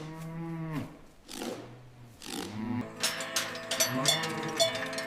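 Several dairy cows in a barn moo one after another, long low calls with rising and falling pitch, close by and fairly loud.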